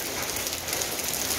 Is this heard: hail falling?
yes